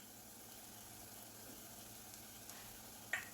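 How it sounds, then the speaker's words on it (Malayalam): A steady, faint sizzle of curry leaves frying in hot oil with a shrimp masala for Chemmeen Mulakittathu, holding an even hiss throughout, with a small clink near the end. "നമുക്കിതിലേക്ക് കുറച്ച് കറിവേപ്പില ഇട്ട് കൊടുക്കാം."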